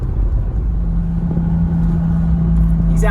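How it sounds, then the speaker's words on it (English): A loud car is heard from inside a vehicle on a 25 mph residential street, its deep steady engine rumble and low drone continuing throughout at close range. "He likes his car loud."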